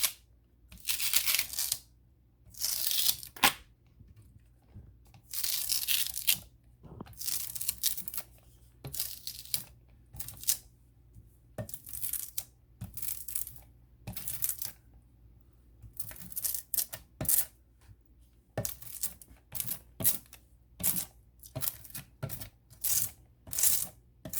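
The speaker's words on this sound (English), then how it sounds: "take one of these lint rollers, whatever, and I'm going to take off as much of the glitter as I can that's here" A lint roller is pressed lightly and rolled across paper to lift off glitter, giving repeated sticky rasping, crinkling strokes in an uneven rhythm, close and fairly loud, with no talking.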